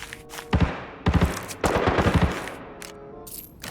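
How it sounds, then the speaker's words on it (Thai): Bursts of automatic gunfire ring out from a floor below in the shooter game Arena Breakout, several rapid volleys with short gaps, fairly loud and slightly echoing, with no talk over them. "ข้างล่างนี้เหมือนว่าจะมีเสียงปืนขึ้นค่อนข้างที่จะเยอะเลยครับ"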